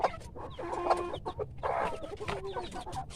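Pet chickens clucking in a backyard breeding pen on a farm, hens and roosters penned together, a busy overlapping chorus of close clucks and short calls throughout, with no talking.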